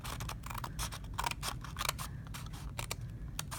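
Scissors cut through paper in rapid, crisp snips, repeating in an uneven rhythm of close, clear cuts with no talking.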